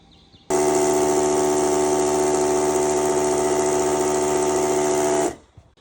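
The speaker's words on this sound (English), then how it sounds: "we're going to cut the rest of these stainless steel M12 rods" Stainless steel M12 threaded rods being cut with a power tool: a loud, steady high-pitched whine with strong harmonics starts abruptly, holds for about five seconds, then winds down and stops.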